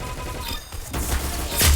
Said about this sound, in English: Wow, you got a headshot.